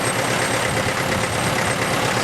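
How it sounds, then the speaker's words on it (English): A 1953 International 275 tractor engine runs at a steady, loud idle, its dense rumble carrying a faint tinkling noise that follows engine speed. "can you hear that tinkling noise above the engine revs?"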